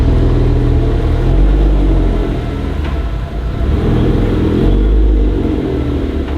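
Supercharged car pulling hard under throttle, a loud continuous engine rumble with a faint high whine riding above it, steady and close throughout.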